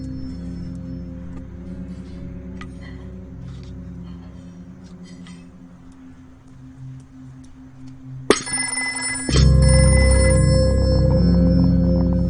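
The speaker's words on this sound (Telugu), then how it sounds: "ఇప్పుడే ఫోన్ రావాలా?" A telephone rings with tinny electronic tones over a low hum, ending in a sharp clatter and louder steady noise.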